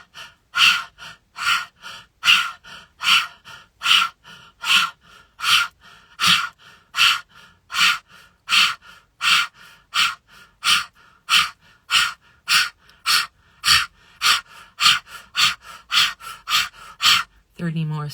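Deep, steady meditative breaths with the belly pushing in and out, about thirty rhythmic inhale-exhale cycles repeating quickly and evenly, fairly close and clear with no talking.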